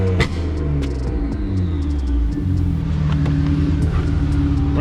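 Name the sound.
turbocharged BMW engine running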